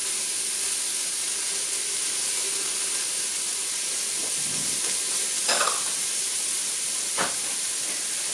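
Ginger frying in a pan alongside chicken gizzards gives a steady, close sizzle and hiss, with a few soft clinks and stirring scrapes partway through and no talk.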